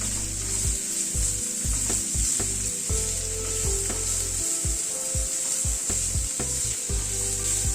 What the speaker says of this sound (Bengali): সবকিছুকে দিয়ে একটুখানি ভেজে নিচ্ছি।